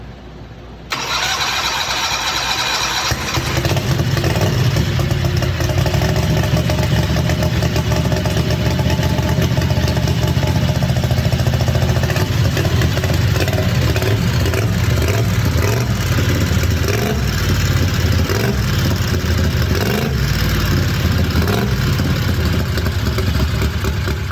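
A turbocharged Predator 670 engine cranks over, then runs and revs steadily on a dyno, loud and close, breaking up as it strains short of 7,000 RPM, with no talk.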